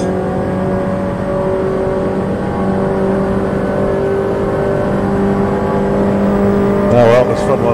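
A Mini Challenge race car engine on track revs near maximum in fourth gear, a loud steady high-pitched drone filling the whole clip, with a brief pitch swoop near the end.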